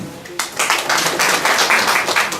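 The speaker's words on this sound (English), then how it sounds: "another round of applause for our brother John" A crowd bursts into dense, continuous clapping for John at a gathering in Mbale District, loud and close, holding a steady roar of hands throughout.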